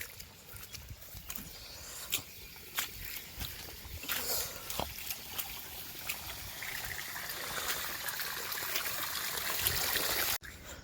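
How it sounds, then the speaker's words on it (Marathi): Water from a borewell welling up and spilling out on its own after heavy rain. Outdoors, a steady trickling and gushing flow builds gradually over light background noise and scattered knocks. "बोर उपळायला लागले."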